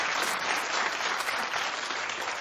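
Steady, dense applause from an audience, a continuous wash of clapping throughout.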